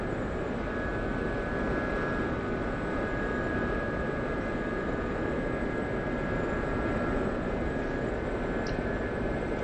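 Steady turbine whine and rotor drone of a Gazelle helicopter in flight in a flight simulator game, a constant loud wash of noise that does not change, with no voices.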